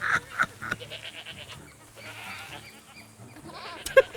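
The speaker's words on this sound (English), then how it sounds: "Let me get these bloody goats in because they're so fucking noisy." Goats bleat in the western roleplay game RedM, several short, nasal calls early on, then softer farm ambience and scattered livestock noises, with another sharp bleat near the end.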